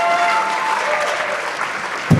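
Audience at a startup investment summit finale applauding steadily, a dense sustained clatter of many hands throughout, with a brief louder burst near the end.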